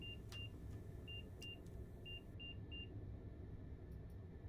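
Class 800 train accelerating in Train Simulator Classic, a steady low engine rumble filling the cab, with a series of short electronic cab beeps repeating over it.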